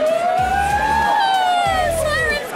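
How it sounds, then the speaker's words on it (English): An emergency vehicle siren wails past at a crowded fan convention outdoors, loud and close, its tone rising then falling while a horn blasts low underneath and voices talk nearby. "Oh, siren's coming through!"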